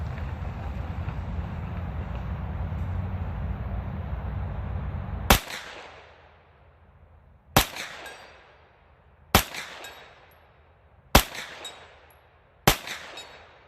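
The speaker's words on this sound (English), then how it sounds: "I'm going to take 5 shots, somewhat rapid fire for this distance" CZ Scorpion firing five quick, evenly spaced gunshots at a steel plate, each a sharp loud crack with a short ringing decay, following several seconds of steady wind rumble outdoors.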